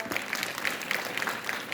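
Audience clapping at a school prize-giving ceremony in a cultural hall, welcoming a guest to the stage; moderate, continuous applause with a voice faintly heard over it.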